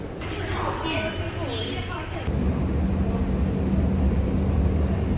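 A crowded Beijing metro train rumbles along with a steady low drone, the sound shifting to a heavier, louder roar partway through as a person talks over it.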